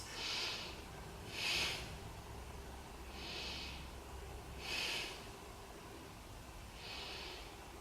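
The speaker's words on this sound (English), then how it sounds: "Take 3 deep breaths as you focus." Slow, audible breaths during a beginner yoga session focused on strengthening the knees, five soft airy inhale-exhale swells spaced about every one and a half seconds over a low steady room hum, with no talking.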